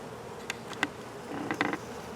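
Honeybees buzz faintly during an apiary inspection of open hives, with a low steady drone and a few brief, closer buzzes as individual bees pass near.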